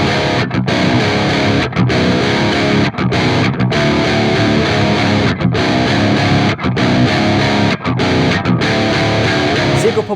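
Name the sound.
electric guitar, Neural DSP Gojira Rust amp crunch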